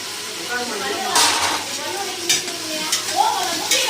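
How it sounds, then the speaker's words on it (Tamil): Ginger garlic paste for mutton biryani sizzles in a pot while a ladle stirs it, giving a continuous close frying hiss broken by several sharp scraping strokes. "லேசாக நம்ம கரண்டி வச்சு கிண்டி விட்டுக்கிட்டே இருக்கணும்"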